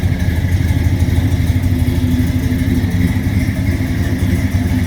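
A 1972 Oldsmobile Cutlass Supreme muscle car with ram air idles with a loud, close, steady low engine rumble and an even, throbbing pulse, with no voices over it.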